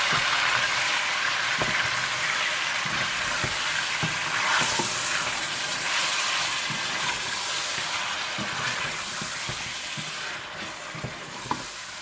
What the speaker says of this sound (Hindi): इसी घी में आप गोश्त और अदरक लहसुन डालकर अच्छी तरह से भून लीजिए।